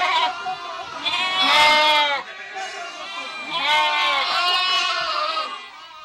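Mother sheep on a remote farm in bitterly cold steppe, bleating loudly and close in two long wavering calls with a brief pause between.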